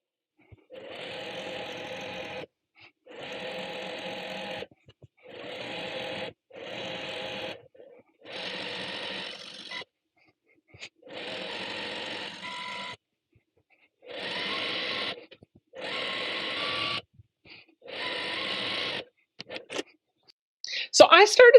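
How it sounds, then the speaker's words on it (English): Sewing machine basting quilt batting to backing for a quilt-as-you-go tree skirt, a close rapid whirring stitch in about ten short bursts separated by pauses, ending with a few handling clicks. "This is going to baste your batting to your backing"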